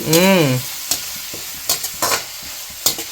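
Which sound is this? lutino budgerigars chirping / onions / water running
onions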